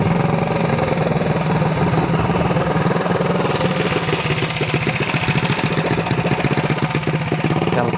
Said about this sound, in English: Got like a little junior dragster motor.